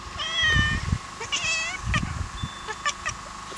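A domestic cat meows twice, close and clear, with short rising-falling cries followed by a few faint clicks and soft rustling in a quiet room.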